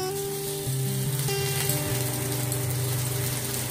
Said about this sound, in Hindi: आप देख सकते हैं हमारा मसाला फ्राई हो चुका है